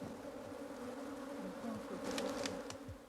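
Honey bees drone in a steady, close buzz around an opened hive colony strong with brood. The hum fills the whole stretch, with a few sharper passes of individual bees near the end.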